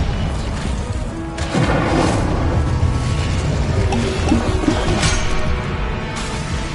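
An Incendio fire spell bursts in a wizarding video game, a booming whoosh of flame over steady rumbling battle ambience with scattered pops and crackles.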